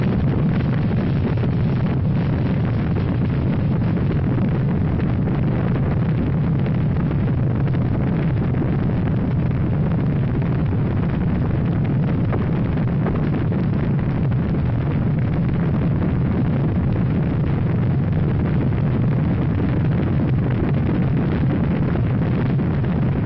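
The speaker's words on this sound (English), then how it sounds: "We've gone for main engine start." Space Shuttle main engines igniting at the 1981 launch, a loud, continuous roaring rumble heavy in low tones that holds steady with wind-like buffeting and no speech.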